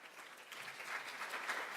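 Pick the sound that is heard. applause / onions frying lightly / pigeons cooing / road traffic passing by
applause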